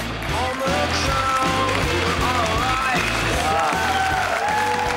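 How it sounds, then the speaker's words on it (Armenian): A studio audience claps loudly and continuously, the applause mixed with a thumping rhythmic beat and some voices. "խնդրում եմ բարձր ծափարեք"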